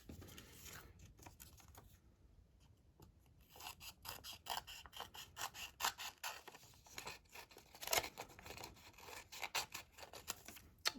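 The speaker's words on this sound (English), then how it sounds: "I'm just gonna cut that off with my pair of scissors." Quiet, rapid snipping and crisp cutting of paper, with scissors clicking in uneven bursts close by.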